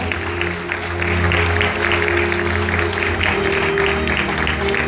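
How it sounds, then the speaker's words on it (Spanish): Church congregation applauding during a sermon, a dense, sustained wash of clapping from many hands filling the room, steady and fairly loud throughout with no distinct voices. "Dale fuerte ese aplauso a Dios"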